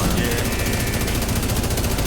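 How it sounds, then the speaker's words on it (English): Rapid automatic gunfire from The Division 2 video game, a dense continuous rattle of shots filling the whole stretch at steady loudness, with no break or pause. "the gunfire and the alarm"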